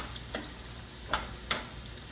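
Soft sizzling of eggplant frying in oil, punctuated by three light clinks of a utensil against the pan.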